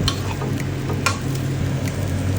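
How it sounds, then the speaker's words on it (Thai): Water mimosa is stir-fried in a pan, giving a steady close sizzle with scraping and clinking from stirring throughout, with no voices. "นำผักกระเฉดลงไปผัดนะครับ ผัดให้เข้ากันแบบนี้เลยครับผมผัดไปสักครู่ครับผม"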